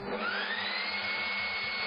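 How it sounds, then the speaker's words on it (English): A leaf blower runs close by in a steady, loud roar with a whine that rises and then holds for about two seconds. No one speaks. "That's a leaf blower."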